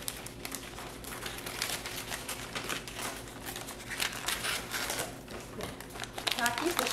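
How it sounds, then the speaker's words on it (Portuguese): Scissors cut through paper wrapping around a funnel and flask, a crinkly, papery snipping and rustle mixed with handling noise, close and fairly quiet, while someone talks over it. "Vou utilizar a minha tesoura, cortar."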